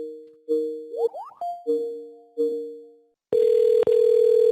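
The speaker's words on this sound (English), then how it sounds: "So I'm going to go ahead and dial again." An outbound phone call placed through Microsoft Teams: several clean electronic dialing tones and rising beeps, followed by a steady ringback tone. The signals are close and clear, with no talking.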